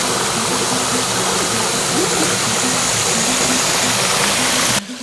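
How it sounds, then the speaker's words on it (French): Rainwater runoff pouring over a small waterfall, a loud steady rush of water filling the whole stretch without pause before cutting off abruptly at the end; no one speaks. "On est arrivé dans le lieu dit la cascade."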